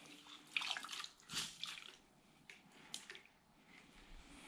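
A cloth is rinsed out in water during a hybrid ceramic wax detailing job, with soft squishing and splashing bursts that come and go, close but quiet, with no one talking.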